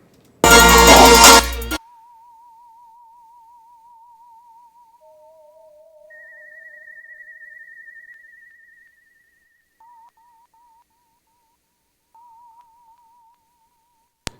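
A whistle sample run through an Echoplex tape-style delay in a hip hop mix, with thin wavering tones that sustain and repeat faintly and sparsely after a brief loud burst at the start, fading to near silence between echoes.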